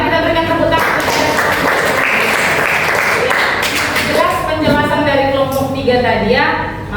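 Classroom applause after a group presentation: a sustained burst of clapping from students, mixed with overlapping voices talking throughout.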